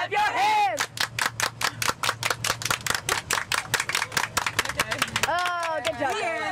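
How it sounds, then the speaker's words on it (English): A group of people clap their hands together in a fast, steady rhythm of sharp claps for several seconds, with voices calling out at the start and end. "Everybody clap your hands!"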